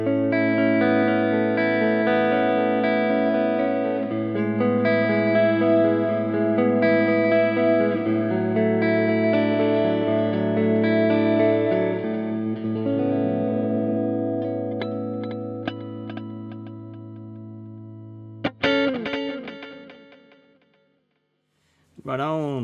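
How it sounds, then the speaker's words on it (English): An electric guitar played through a Line 6 DL4 MkII pedal set to dual delay, sustained chords with layered alternating repeats that ring on and decay, followed by a few plucked notes and a brief swelling echo. "Cool, so that's a dual delay."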